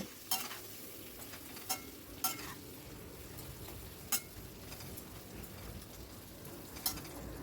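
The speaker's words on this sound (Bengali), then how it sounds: "আর আলুগুলোকে একটু ফ্রাই করে নেবো" Thinly sliced potatoes fry with salt in a pan over high flame, giving a steady, dense sizzle with a few sharp spatula scrapes and clicks scattered through it.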